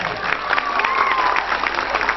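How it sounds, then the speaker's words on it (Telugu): A crowd at a school's annual day celebration applauds steadily, a continuous dense patter of clapping with some faint cheering and voices in the background. "చప్పట్లతో అభినందనలు తెలియజేయాలి"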